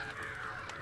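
A raven's harsh caw from a Game of Thrones episode, one sustained croaking call that fills the short moment at moderate loudness with no talking over it.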